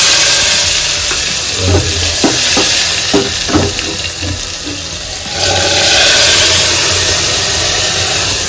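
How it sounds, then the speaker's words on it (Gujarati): Tempering (vaghar) for a bottle gourd, tomato and dal curry sizzles steadily in a pan, with a run of sharp stirring clacks partway through and a louder surge of frying hiss near the end. "ટમેટા, દાળ, દૂધી અને અહીંયા વઘાર પણ થઈ ગયો છે."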